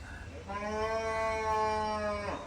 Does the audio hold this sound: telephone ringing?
no